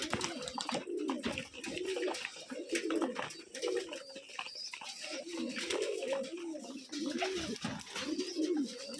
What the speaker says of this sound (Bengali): কবুতর কি এখনই ছাড়ছেন নাকি সব? হ্যাঁ, এই মাত্র ছেড়েছি।